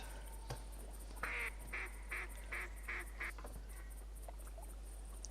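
Synthetic duck quacks from the hunting game theHunter: Primal repeat in a quick series of about six calls over a steady low hum, with a few soft clicks around them.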